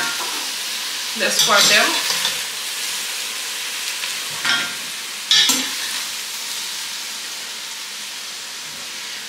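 Eggplant slices fry in hot oil in a pan with a steady bright sizzle, broken by a few short bursts of stirring and handling; a voice speaks briefly.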